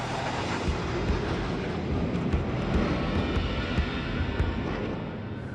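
An F-111 jet with its tail hook lowered approaches a runway, a loud sustained broadband jet roar with steady rumble and no voices.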